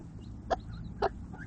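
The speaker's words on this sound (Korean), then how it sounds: "졸지에 병아리들을 모두 뺏긴다는 암탉은 너무 황당해서 소리를 지르기" A hen squawks sharply twice in quick succession, loud and close, after her six chicks are taken from her and given to another hen; no talk.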